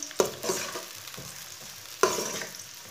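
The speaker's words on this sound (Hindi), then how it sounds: "एक बारीक कटा हुआ प्याज डाल लेंगे। प्याज को ना हल्का सा ब्राउन कर लेंगे।" Finely chopped onion fries in oil in a pan and gets stirred, giving a soft steady sizzle broken by two sharp scraping stirs near the start and middle, with no talk.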